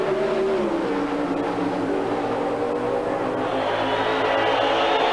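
NHRA Pro Stock drag race cars from 1992 roar steadily at high revs on the starting line. The engine noise is loud, dense and sustained throughout, with a rising tone near the end.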